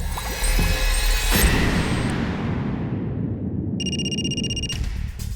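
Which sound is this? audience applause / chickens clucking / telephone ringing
telephone ringing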